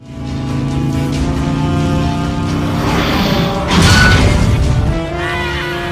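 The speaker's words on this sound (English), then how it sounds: "Especially well executed is the iconic motorcycles versus semi-truck chase scene." A loud action-movie chase in Terminator 2, with motorcycles against a semi-truck: roaring engines, a mid-scene crash and whooshing impact, then continued engine drone under music, no talk.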